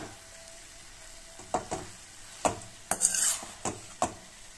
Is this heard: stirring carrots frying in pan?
yes